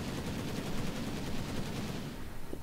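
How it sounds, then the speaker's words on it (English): Gyrocopter's missile attack in Dota 2, heard as a dense, continuous barrage of rapid gunfire-like bursts and explosive crackle that stays steady and loud for the whole stretch, with no talk over it. "Go, gyrocopter's missile!"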